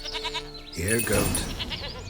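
Goat bleating in the video game The Witcher 3: a short, wavering, nasal bleat in the first moment, followed by a voice talking over the game's ambient sound.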